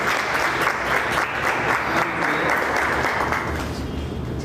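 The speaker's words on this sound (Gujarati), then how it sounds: "જોરદાર તાળી એક" A packed audience claps steadily at a photography exhibition by Vipul Laheri in Bhavnagar. The dense, even applause fills the whole stretch at a constant level without letting up.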